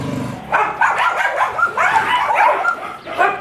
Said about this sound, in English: I've set off all the dogs walking down here.